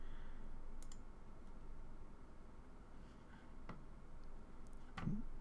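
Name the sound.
computer mouse clicking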